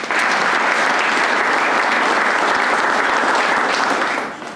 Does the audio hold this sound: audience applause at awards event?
yes